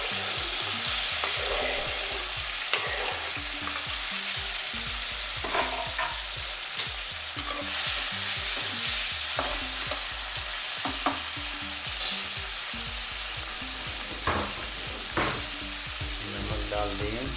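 Tomatoes with finely chopped ginger fry in a pan for tomato chutney, a steady close sizzle broken by repeated scraping and clattering stirs throughout, with no talking.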